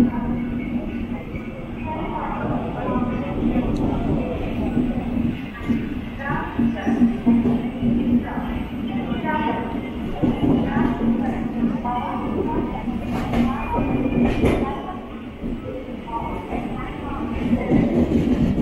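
The 20691 Antyodaya Express rumbles out of Trichy station with a steady, rattling rolling noise and rhythmic clicks from the track joints. Voices talk over it throughout.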